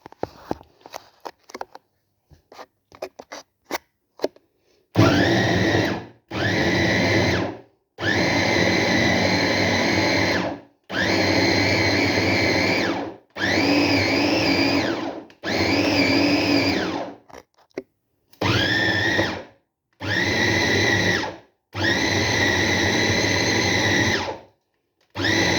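A kitchen blender or grinder mincing onion, garlic and fresh greens for ground meat, running in about nine loud whirring bursts of a few seconds each, separated by short pauses and clicks.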